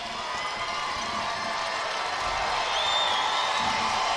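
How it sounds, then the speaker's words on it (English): Fans of the Salem Greyhounds roar and cheer in the stands at a girls' 3A state championship basketball game, a loud, sustained crowd wash with scattered whoops and shouts and no clear break. "Listen to the crowd from these Greyhounds faithful."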